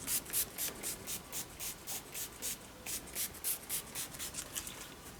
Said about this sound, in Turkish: kurumadan temiz bir bezle gördüğünüz gibi siliyorum